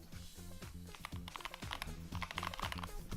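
Rapid typing on a K2HE wireless magnetic switch keyboard, close and clear, with quick irregular keystrokes clattering throughout and no talk.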